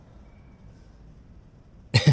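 A single short, loud cough bursts out at the very end after near silence.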